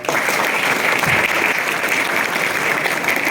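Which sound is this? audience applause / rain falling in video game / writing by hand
audience applause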